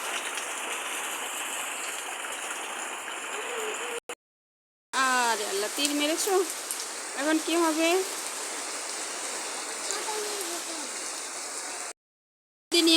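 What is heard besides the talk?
rainwater pouring down at a house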